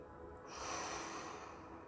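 A person draws one slow, deep breath in, a soft airy inhale that swells and fades over a couple of seconds, close and quiet.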